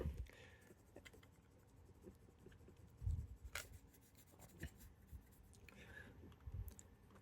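A pencil rubs back and forth over waxy decal paper while transferring tire decals for a Tomy Back to the Future DeLorean model, making a faint, close, dry scratching with occasional soft taps and rustles in a quiet room.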